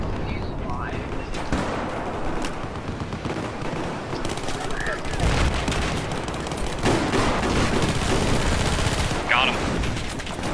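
Video game gunfire, with rapid automatic bursts and scattered shots filling the stretch at steady loudness, mixed with game noise and players chatting over the shooting.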